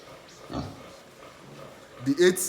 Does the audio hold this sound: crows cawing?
no